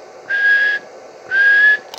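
Someone whistles into the microphone of a Stryker 497 HPC CB radio, making two short, clear, steady whistle tones about a second apart. They come through loud over a soft background hiss, with no speech.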